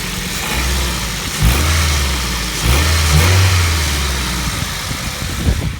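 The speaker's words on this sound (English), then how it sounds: "when I would rev it like that at the engine" A 2004 Ford Focus ZX5 with the Zetec engine and high mileage revs up twice from idle, each rise swelling and falling back, close and loud and with no talk.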